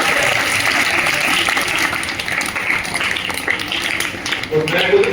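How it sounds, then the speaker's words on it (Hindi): Audience at a school Hindi Day function claps loudly and steadily for the staff members, a dense, continuous wash of applause that fills the whole stretch at an even level. "एक बार सबके स्टाफ सदस्यों के लिए आप सब ताली बजाओगे जोरदार"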